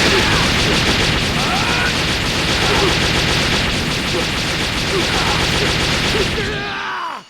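Emperor's Death Beam attack fired in a Saiyan video game: a loud, dense roar of crackling, rapid-fire blasts sustaining for about seven seconds before cutting off sharply.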